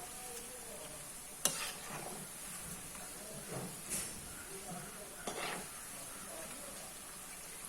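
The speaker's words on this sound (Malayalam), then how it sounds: "ഇനി ചെറുതായിട്ടൊന്ന് ഇളക്കാം." Tapioca fries in a pan with a steady hiss and sizzle. A spatula stirs it with a few scattered scrapes, including one sharp knock near the start, all heard close with no talking.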